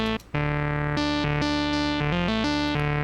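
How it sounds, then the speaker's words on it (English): Monophonic synth lead line from an electronic track production, a bright buzzy sustained tone stepping between notes in a short melodic phrase, loud and upfront with no other sounds. "He came out with this synth part, which just sounds like this."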